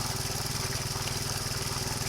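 A small engine running on a 3 kg LPG cylinder drives a bore well water pump, giving a steady, even, low throbbing drone with no talk over it.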